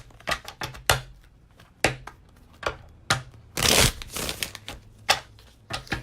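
Hanson Roberts Tarot deck being shuffled by hand in a run of crisp card riffles and snaps, some single taps and one longer dense riffle burst, fairly close and alone with no talking.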